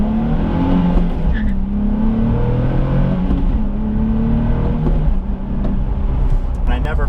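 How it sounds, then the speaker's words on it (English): Nissan 370Z engine pulling hard and climbing through quick upshifts on the road, with rising and falling engine tones that run steady and loud across the whole stretch, close to the listener and sitting under faint background sound. "So now getting onto the road, doing a quick upshifting through the gears."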